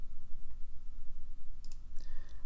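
A computer mouse clicks in a quick burst of three or four sharp clicks near the end, heard against a steady background hum with no talking.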